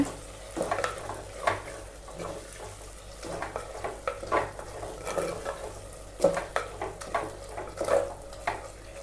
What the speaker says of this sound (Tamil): கீரை சேர்த்து நல்லா மிக்ஸ் பண்ணி விடுங்க.